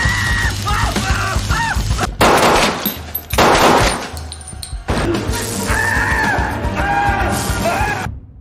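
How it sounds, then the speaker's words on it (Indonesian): A gunfight in the action film Copshop: bursts of gunshots and crashing impacts alternate with tonal passages, yells and harsh noise, loud and chaotic, with short gaps between the volleys. "Teddy terlihat masih sibuk tembak-tembakan dengan Anthony dan Hooper"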